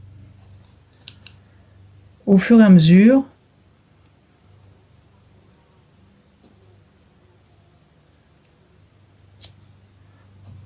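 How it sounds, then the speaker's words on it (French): A paper wrapper is peeled off a Sennelier dry pastel crayon in one short, loud tearing rasp lasting about a second, with quiet talk before and after. "vous pouvez enlever le papier qui protège le crayon"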